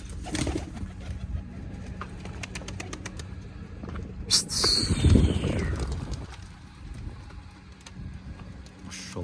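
Pigeons in a loft giving low coos over a quiet background, with a burst of wing flapping and scuffling midway and scattered soft clicks and rustles.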